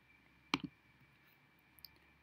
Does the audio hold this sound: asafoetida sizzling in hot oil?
no